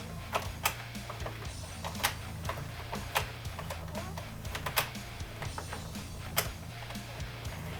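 Addi knitting machine being cranked slowly while casting on yarn, a quiet run of sharp plastic clicks and ticks at an uneven pace over a low mechanical hum.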